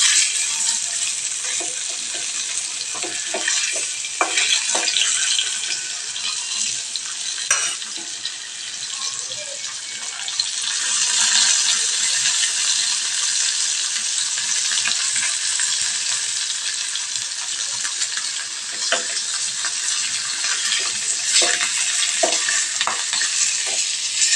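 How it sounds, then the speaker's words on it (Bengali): A fish head frying in hot oil gives a continuous, close, loud sizzle with crackling and occasional stirring scrapes throughout, and no voices. "একইভাবে মাছের মাথাটাকে আমি ভেজে তুলে নেব"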